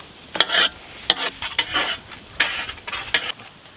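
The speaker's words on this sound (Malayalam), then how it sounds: "കുറച്ച് കാശ്മീരി ചില്ലി നല്ലോണം മിക്സ് ചെയ്യണം" Chicken with salt and Kashmiri chilli stirred in a pan, a series of close scraping strokes and metallic spoon clinks over a light sizzle.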